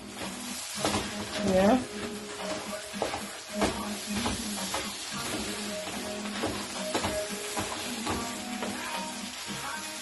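Pineapple fried rice with freshly added rice sizzles and is stirred in a hot pan, a steady frying hiss with stirring scrapes throughout, and a voice speaks briefly over it.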